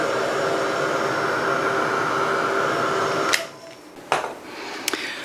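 Heat tool blowing hot air to set embossing on a card, a loud steady roaring whoosh that holds for over three seconds and then shuts off, leaving a few light clicks and taps.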